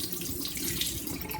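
Tap water runs steadily into a sink while rice is rinsed for yellow rice with corn, a continuous close splashing wash with no talk.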